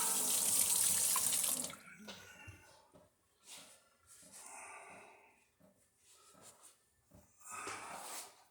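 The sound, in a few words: rinsing hand under running tap water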